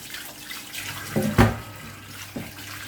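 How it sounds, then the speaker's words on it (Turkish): Trotters are washed under a running tap, with a steady splash of water into a sink and a few louder gushes and knocks as they are handled. "Önce bunları yıkayım dur."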